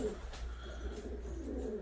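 Filo Elvan pigeons coo softly in a loft, a low steady murmur of several birds layered under continuous background hum, with no talking.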